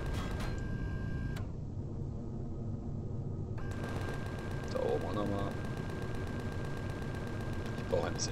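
A rapid, continuous stream of gunfire rattles from a Gatling-style rotary cannon in the game Empyrion - Galactic Survival, with a brief break partway through, alongside mechanical clatter and a voice.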